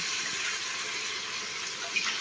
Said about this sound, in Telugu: ఒక బౌల్లో వాటర్ తీసుకొని ఇలా పోస్తున్నాను.